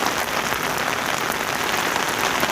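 Heavy rain pours steadily onto a London street, a dense, continuous hiss of drops hitting pavement with no voices over it.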